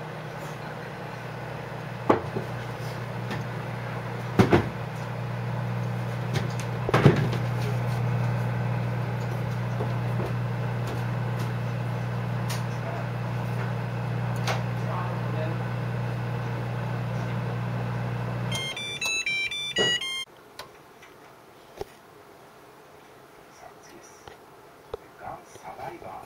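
A microwave oven hums steadily while it heats mochi topped with a shrimp cracker, a low drone with a few clicks, then the beeping end signal and quiet after the hum stops.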